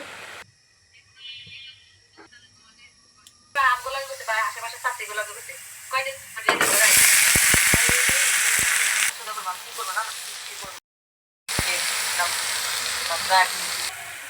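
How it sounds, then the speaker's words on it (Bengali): Cabbage with salt and turmeric cooks in a pan, starting quiet, then breaking into a loud broad sizzle with sharp crackles, cut off briefly before resuming; voices and other background sounds come and go in the early part. "বাঁধাকপি তো সাথে দিয়েছি লবণ আর হচ্ছে একটু হলুদ দিয়ে এটাকে ভালো করে আমি সিদ্ধ করে নেব"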